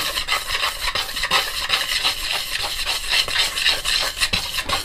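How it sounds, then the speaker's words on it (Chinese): Chopsticks stir 5 grams of yeast powder through flour in a mixing bowl, giving a steady close scraping and rubbing rasp with quick repeated strokes and no talking. "首先，我们将5克的发酵粉把它倒到工作盆里然后用筷子跟面粉稍微搅拌一下"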